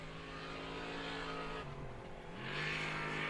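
A trophy truck races past on the Baja 400 desert course in a SCORE qualifier, its engine a loud, steady roar that dips briefly, then swells again with rising hiss as the truck nears.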